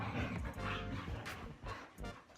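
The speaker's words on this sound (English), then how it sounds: "We're gonna have to wait till the end of this dog fight." Dogs scuffle and snarl with short yips and whimpers, muffled and faint from a basement.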